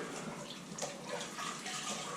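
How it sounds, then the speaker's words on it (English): Water sloshing and splashing as a rag is dunked and worked in a bucket, soft and close, with irregular trickles and drips throughout. "got a bucket of water and a rag."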